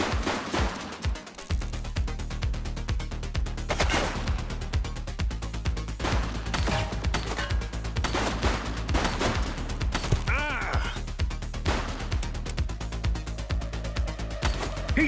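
Gunfire in a shootout in the video game The Precinct: rapid bursts and single shots crack repeatedly over a constant low rumble, fairly loud and close, with brief voices in between.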